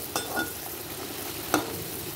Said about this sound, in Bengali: এই দেখুন দিয়ে দিলাম, সেমভাবে ওলট পালট করে ভেজে নেব।